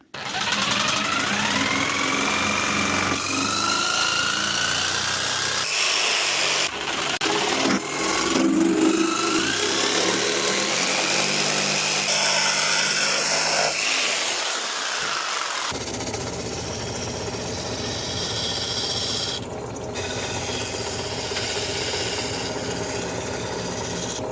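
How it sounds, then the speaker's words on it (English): A jigsaw trims protruding wood edges on an Adirondack chair, a loud, continuous rasping buzz that shifts in pitch as the blade works through the cut, running steadily throughout with brief changes in load. "I'm going to just trim these off with my jigsaw"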